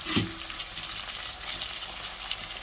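Tomatoes sauté in a pan of softened green chillies for a fish curry, giving a steady, close hiss of sizzling oil with a brief clink of stirring near the start.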